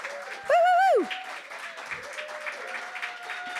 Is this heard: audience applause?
yes